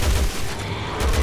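Gunfire in Resident Evil 6 on Veteran Mode, a dense loud burst of booming shots at the start and again near the end, with a rumbling lull between, no talking.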